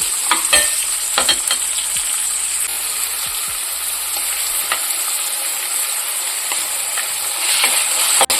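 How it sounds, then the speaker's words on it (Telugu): Onions fry in hot oil in a pan, giving a loud, continuous hissing sizzle close up, with occasional scrapes and knocks from stirring and no speech. "ఆయిల్ కాస్త వేగాక మనం ఇలా ఆనియన్స్ అయితే వేసేసుకోవాలి కాస్త ఆయిల్లో ఇలా ఫ్రై అయ్యాక"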